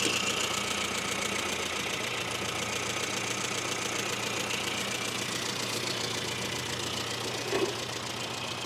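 A Mini's engine idles steadily after its carburettor mixture has been richened, a continuous close, even mechanical drone with a faint knocking rhythm and one brief bump near the end, no talk.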